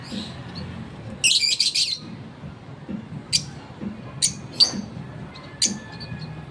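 Reunited pet lovebirds let out sharp, bright chirps and squeaky calls in scattered bursts: a quick rapid flurry early, then single tweets every second or so over a low indoor background hum, with no talk.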